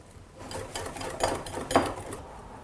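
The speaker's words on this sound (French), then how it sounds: "Et je vais commencer à mélanger doucement au fouet." A wire whisk stirs crêpe batter made with a whole egg in a bowl as semi-skimmed milk is poured in, giving soft, steady scraping with two sharper clinks against the bowl, fairly close and alone.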